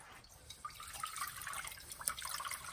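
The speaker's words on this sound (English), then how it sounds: "Look at how much water, and I'm just squeezing the bottom of it." Water drips and trickles steadily from zucchini noodles wrung out in a kitchen towel, a soft, close, irregular patter of droplets.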